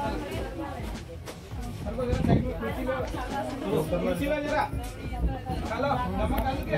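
Passengers on a packed MSRTC state bus in Maharashtra chatter steadily, a dense babble of overlapping voices mixed with a low engine rumble.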